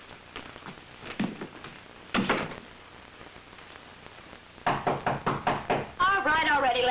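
Knuckles rap on a door in a 1940s TV crime drama, with a few scattered knocks early on and then a rapid, insistent run of loud knocks, and a voice speaking at the end.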